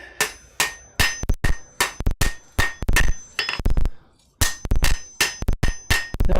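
Hammer blows on forged steel straightening a steak flipper in a smithy, sharp ringing strikes in quick rhythmic bursts with a brief pause midway, close and loud.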